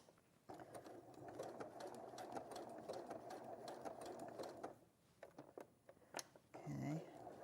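A sewing machine stitches a circle in bursts of rapid, close mechanical whirring, pausing briefly near the end before resuming, with a voice talking over it.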